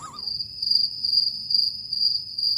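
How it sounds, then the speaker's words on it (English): Steady, continuous cricket chirping, a single high trill running unbroken and fairly close, alone with no talk. "Cue the crickets."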